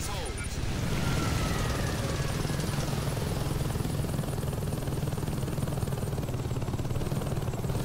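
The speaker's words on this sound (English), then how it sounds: "Got another helicopter." Helicopter in the open-world game Saints Row 2, its rotor thumping steadily and loudly throughout with constant engine drone, amid other game noise.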